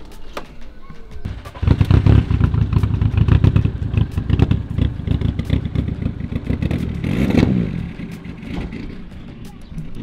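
A motorcycle being prepared for the Ultrace 24 event pulls away with rattling, revving bursts that build and ease, rough and clattery at close to medium range.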